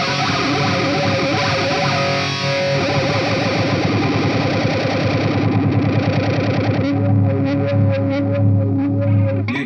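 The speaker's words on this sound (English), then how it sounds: "let's switch to Flanger and compare it to the Bass BF2, old Flanger of mine." Sonicake Warped Dimension modulation pedal set to flanger, a loud continuous distorted guitar tone with sweeping comb-like swirls, shifting character partway through as notes ring out alone.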